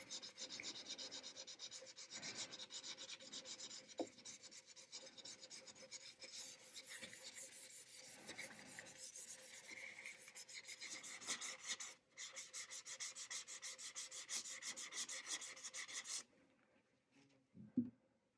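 Fine-grit sandpaper rubbed by hand along the neck finish of an acoustic guitar, a steady close raspy scratching in continuous back-and-forth strokes that drops to near quiet at the end.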